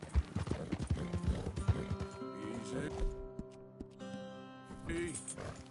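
Rhythmic hoof clip-clops of a horse in Red Dead Redemption 2, steady and close, with a rider speaking over the hoofbeats and a brief whinny-like tone near the end.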